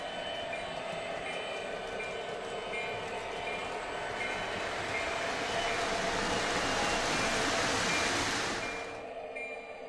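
Model train locomotives running on a layout, a continuous rolling rumble with faint clicking that builds a little, then cuts off sharply near the end, with no talking.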